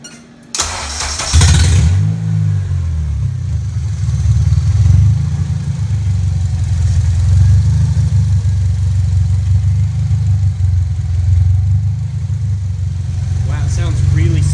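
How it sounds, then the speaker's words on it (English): A Honda K24 engine, freshly swapped into an EM2 car, cranks briefly and catches, then settles into a steady, smooth idle that carries on loud and close for the rest of the stretch. "Okay, so AJ's primed it up a couple times, so now we're gonna give her a try."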